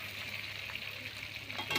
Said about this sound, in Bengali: এবার আমি টমেটো কুচিগুলো দিয়ে দিলাম কড়াইতে।